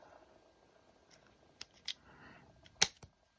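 A small snap made with scissors while shaping a hidden paperclip dress bookmark for a junk journal, heard as a few sharp clicks, the loudest near the end, with no talk.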